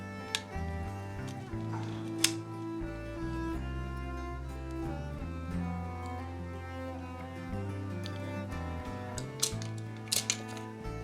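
Several sharp mechanical clicks and snaps from a Canon FT QL film SLR camera as its back cover is opened, spaced across the clip and partly masked by steady background music.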